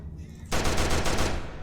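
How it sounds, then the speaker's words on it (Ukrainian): Rifle gunfire in a horror video game bursts in loud and sudden after a quiet half second, a rapid rattling run of shots that fills the rest of the moment. "звук гвинтівки дуже голосний"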